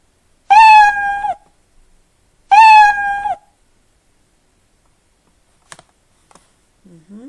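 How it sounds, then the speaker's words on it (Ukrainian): Two clear cartoonish meows, evenly spaced and loud, followed by faint clicks and quiet. "і далі знов можна зробити звук няв"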